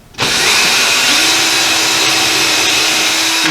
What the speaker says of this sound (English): Again, I just want to drill